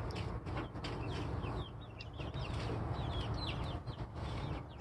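Backyard flock of chickens clucking softly around a new coop, several birds making scattered short calls at moderate distance over a steady outdoor background hum.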